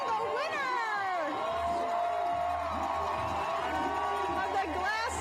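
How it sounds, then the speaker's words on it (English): At the Glass City Marathon 2024 finish line, a dense crowd cheers and whoops continuously as the winning runner approaches, with a voice talking over the loud, sustained noise. "Here we go, everybody's cheering him on"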